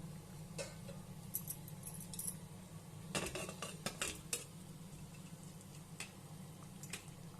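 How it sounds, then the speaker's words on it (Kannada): A lid set onto a boiling pot of avarekalu pulao, quiet metallic clinks and clatters clustered in a brief burst over a low background hum, no voices. "ಈಗ ಇದಕ್ಕೆ ಮುಚ್ಚಳ ಹಾಕೋಣ"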